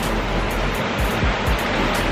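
A rain-swollen river in Hawaii rushing loudly and close by, a dense continuous roar of churning water with a few low thumps, and no one speaking.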